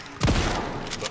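A sudden loud gunshot burst from an enemy gunman in Resident Evil Requiem, one close blast with a rumbling tail and a fainter echo shortly after.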